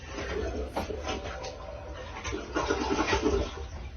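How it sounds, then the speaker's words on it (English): A newly installed toilet flushes with a loud, close rush and gurgle of water that swells over about four seconds, with brief voices nearby. "now we're gonna flush the goddamn toilet"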